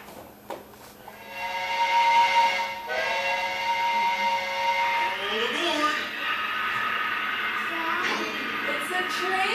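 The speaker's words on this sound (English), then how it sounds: "It's a train!" Steam train whistle with hissing steam, a long sustained multi-tone whistle that swells and holds for several seconds over a continuous airy hiss, fairly loud and close, with pitch wavering toward the end.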